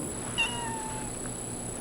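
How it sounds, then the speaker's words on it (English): A cat lets out a single short, fairly faint meow that slides downward in pitch, set against a steady background hum. "We're being overrun by cats."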